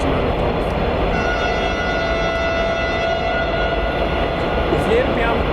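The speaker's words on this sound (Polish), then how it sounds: "uwielbiam echo w tunelach w Train Simulator Classic" A Voith Maxima 40 CC diesel locomotive in Train Simulator Classic drones steadily through a tunnel, its engine rumble and tonal whine echoing continuously at close range.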